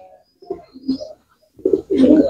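Pigeons coo in a few short, close bursts, soft at first and louder toward the end, with no talk over them.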